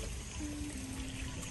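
Water pours steadily and softly into a pot being readied to steam a Thai jackfruit and sticky rice dessert, a faint continuous trickle with no talking.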